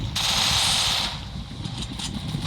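Video game gunfire: a rapid burst of automatic shots up front, then quieter scattered shots and game noise trailing off over a couple of seconds.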